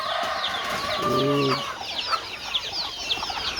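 Chickens cluck on a farm among assorted ducks and geese, with layered bird calls and one drawn-out harmonic call in the middle against constant farmyard chatter.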